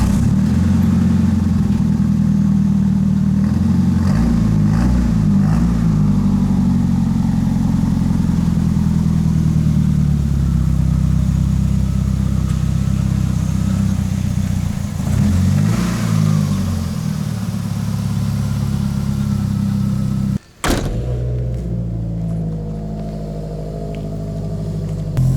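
A JDM right-hand-drive turbo hatchback idling and backing out of a garage, a loud low engine drone with slight rises in revs, close by, ending in an abrupt cut and a quieter idle.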